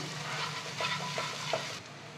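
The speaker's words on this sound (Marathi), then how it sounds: "आता हे मसाले सगळे ह्याच्यात ना मिक्स करून घेऊया" Spices, Kashmiri red chilli powder and onion-garlic masala, sautéing in hot oil for dhaba-style dudh sev bhaji give a soft, continuous sizzle with a few gentle stirring scrapes, fairly quiet, with no voices.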